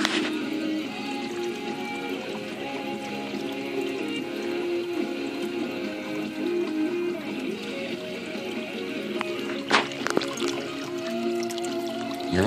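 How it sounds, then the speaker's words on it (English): A pet water fountain runs steadily with a soft, continuous trickle and light splashing. It stays fairly quiet and even throughout, with a couple of brief louder knocks near the end. "And you just love that water fountain."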